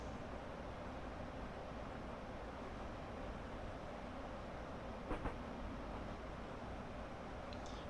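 A Class 465 electric train slowing on the London–Faversham high speed line, heard as a constant dense rumble and rush from inside the cab, with a brief faint clink partway through and no speech.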